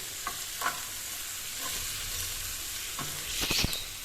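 Frozen peas and corn being stirred into a sizzling pan as filling for chicken vegetable spring rolls, with a steady frying hiss under occasional spoon scrapes and clinks, close by.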